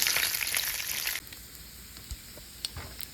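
Bacon frying in a pan gives a loud, dense sizzle for about a second, then drops to a quieter crackle with a few scattered pops and spits.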